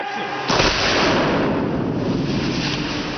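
A real model blown up as a practical film effect: a sudden loud blast erupts, then a broad roaring rush of fire and debris sustains and slowly fades.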